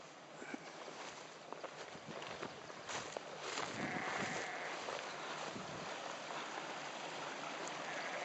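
A stream flowing on Dartmoor gives a steady, fairly faint rushing wash that thickens slightly partway through, with some wind-like hiss mixed in and no talking.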